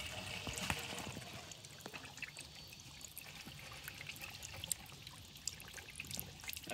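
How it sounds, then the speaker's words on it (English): Water trickles and pours into a container on a homemade water computer, a steady quiet splashing stream with small drips and gurgles throughout, no voices. "Let's add some more water and try that again."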